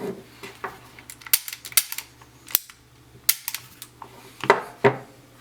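An Umarex Makarov CO2 4.5mm BB pistol fires a series of sharp, snappy shots at irregular intervals, each followed by clicks and light metallic handling noises.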